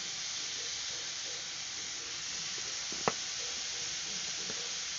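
Vegetables roasting in a pan give a steady, even sizzle and hiss throughout, with one sharp click partway through and no talk.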